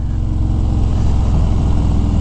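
A motorcycle engine idles and rumbles steadily at close range as the bike rolls into a street-side parking lot, with a low continuous drone and no talking.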